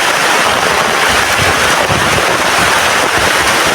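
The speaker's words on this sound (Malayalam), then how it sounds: "നല്ല മഴ പെയ്യുന്നുണ്ട്" Heavy rain pours at night beside a village fishing spot, a steady, loud and dense broadband hiss with no pauses throughout.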